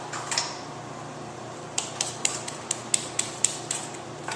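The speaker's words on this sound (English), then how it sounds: "Hit the apparatus gently to make sure that the entire sand cone is filled with the sand." A sand cone density test apparatus inverted on its base plate is tapped gently by hand, giving a short run of about eight light, evenly spaced knocks, close and fairly quiet, over a low steady background hum.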